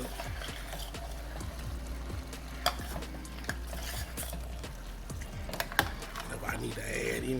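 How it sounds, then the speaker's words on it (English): A spoon stirs homemade cheese Hamburger Helper in a pan, with soft repeated scraping strokes, faint sizzling, and occasional sharp clinks of utensil against metal, close and quiet with no talking. "Let's go and stir it up."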